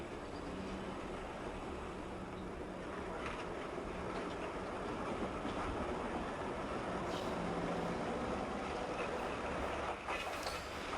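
A 1941 Indiana interurban electric train, a car built in 1927 for the THI&E, rolls along the rails with a steady, low rumble that holds for the whole stretch, moderately loud, with faint higher clicks late on and no voices.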